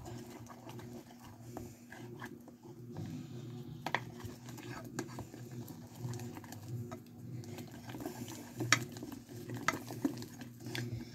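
Slime is stirred and mixed at a desk, giving soft, close squishing and scraping with a few sharper clicks over a low hum, while a voice talks quietly in places.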